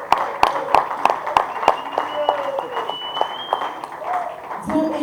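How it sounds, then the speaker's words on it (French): Rhythmic audience clapping at a Congolese gospel event honouring a preacher, regular sharp claps in a steady beat, with voices and singing-like tones over them. "on peut l'applaudir s'il vous plaît"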